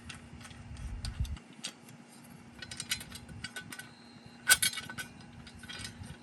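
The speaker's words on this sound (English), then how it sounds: "I've got my folding shovel. So I'm just gonna unfold it." A small metal folding shovel being unfolded, with sparse clicks, clinks and ratcheting snaps of the hinged joints, close by, including one sharper metallic clack.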